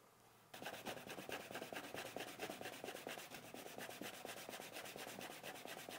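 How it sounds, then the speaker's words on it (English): Leather edge being polished with burnishing gum, a steady rapid back-and-forth rubbing with regular rhythmic strokes, close and fairly loud, starting after a brief quiet moment and continuing alone. "I'm just applying the burnishing gum and I'm going to polish that in"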